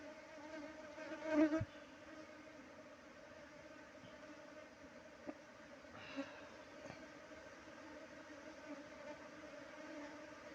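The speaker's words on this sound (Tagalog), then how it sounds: "hinahalikan niya lang yung mga bubuyog" Bees buzz around a honey-hunting spot outdoors, a continuous low droning hum with a louder close pass early on and a few brief faint knocks.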